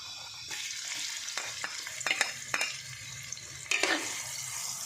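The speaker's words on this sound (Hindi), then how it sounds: "ऑयल गर्म हो चुका है, अब इसमें प्याज डाल देंगे" Onions dropped into hot oil in a kadai, a sudden burst of sizzling followed by stirring scrapes and clatters over a steady fry, close and moderately loud, no speech.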